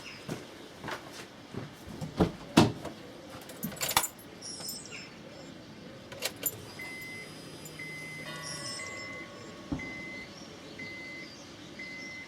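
A Honda CR-V ignition key, on a car with a fault in its fuel gauge, is switched off and back on: a few sharp key clicks, then steady electronic chime tones ringing inside the cabin. No one speaks.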